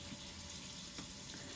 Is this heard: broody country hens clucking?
no